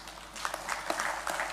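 A university audience applauds at a first-year engineering induction program. The clapping is brief and moderately loud, a dense patter that swells slightly and holds for under two seconds.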